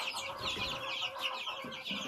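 Young chicks settle in a warm coop under a red heat lamp, giving a dense, faint chorus of rapid overlapping peeps and soft clucks with no talk.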